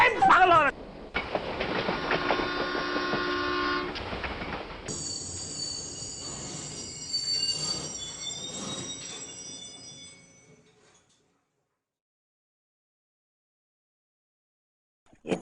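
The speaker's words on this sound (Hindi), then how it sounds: "ये ट्रेन क्यों रुक गई?" Train slowing to a halt, with squealing wheels and brake noise that fade out over about ten seconds into silence, mixed with some voices.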